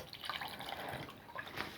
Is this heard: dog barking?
no